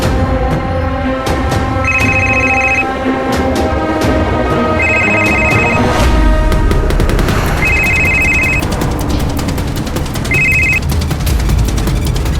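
A phone rings after a call is placed during a police crime drama scene. Four loud, evenly spaced bursts of a trilling ringtone play over tense background music with sharp percussive hits.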